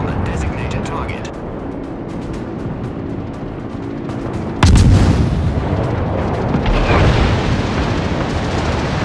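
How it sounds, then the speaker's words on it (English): Anti-aircraft gunfire from a Clemson warship in a naval combat video game forms a dense, continuous rumbling barrage that jumps abruptly louder about halfway through, heavy and close throughout. "Provide anti-aircraft fire support"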